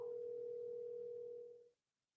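A telephone dial tone hums steadily as a call is placed, a single unbroken tone that stays even for a second and a half and then fades out to silence.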